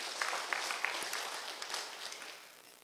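An audience at an ACK church gathering in Kiambu applauds Governor Wamatangi with a sustained wash of clapping, a few sharper claps standing out before it gradually fades.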